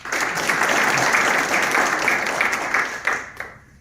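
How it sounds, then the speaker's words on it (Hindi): Audience applause fills a spiritual gathering addressed by a Hindu religious leader, a dense sustained clapping that holds steady for several seconds before thinning and fading out. "अपने लिए ताली बजाओ।"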